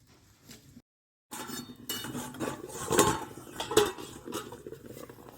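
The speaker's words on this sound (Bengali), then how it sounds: "একটা ঢাকনা দিয়ে দিচ্ছি" Metal lid set onto a pot sitting over a tiffin box in water, a few close clinks and clatters of metal against metal after a brief silence, no talking.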